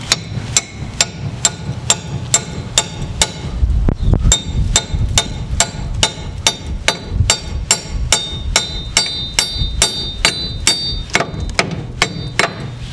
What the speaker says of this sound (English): what I'm having to do is hammer one side on, and then put this in there, hammer it in